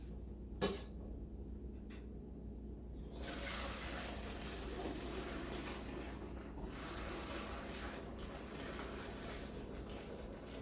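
Strained liquid from beanless chili poured into a container while pressure canning, a steady soft watery splashing after a brief clink, faint and continuous.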